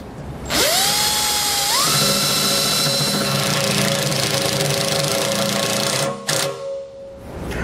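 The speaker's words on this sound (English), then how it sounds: "use our self-tapper to get that in place." A power drill drives a self-tapping screw to mount a breakaway switch on a 2010 Starcraft Homestead fifth-wheel trailer, revving up in pitch and then whirring steadily and loudly for several seconds before stopping.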